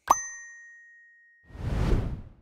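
A bright notification bell dings once with a sharp attack and a long ringing tail, followed after a pause by a soft swelling whoosh, both clean sound effects with no voices.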